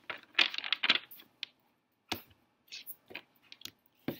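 Tarot cards are shuffled by hand in short bursts of riffling and light slapping clicks, close and crisp, with brief quiet gaps between the shuffles.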